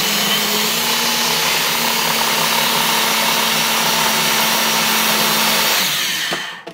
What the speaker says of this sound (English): Now you need a fairly powerful blender if you're gonna put this much frozen stuff in there